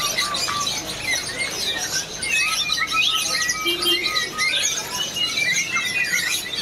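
Caged songbirds, including canaries, chirp at a Javanese bird market in a dense, continuous chorus of overlapping tweets and trills, near and lively.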